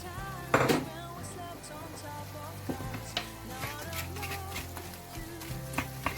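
Sliced peppers tipped into a pan of softened onions give a sharp sizzling burst near the start, then settle into a low, steady frying crackle with faint stirring under a tonal background.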